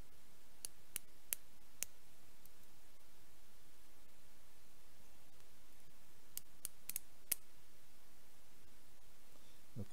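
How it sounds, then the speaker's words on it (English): Small snips cut pieces of sheet solder for a silver ring, heard as a few faint, sharp clicks scattered over steady background hiss. "I'm going to cut little pieces of sheet solder here"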